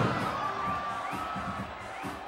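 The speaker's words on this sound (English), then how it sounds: "the sounds of spectators screaming as you hurl bowling balls towards the crowd instead of down in the lane" Spectators screaming and cheering in the Kinect Sports bowling video game on Xbox 360, a continuous crowd of high shrieks and shouts with bursts of excited voices, fairly loud and steady.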